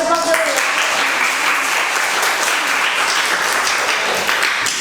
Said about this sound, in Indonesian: Kita beri aplaus dulu ya.